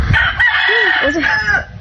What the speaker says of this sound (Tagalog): Saba ba ni manok ni Paderlan